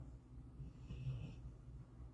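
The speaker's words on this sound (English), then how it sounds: "Can you hear her snoring?" A sleeping dog snores softly nearby, one slow, low rasping breath swelling and fading over a couple of seconds against a quiet room.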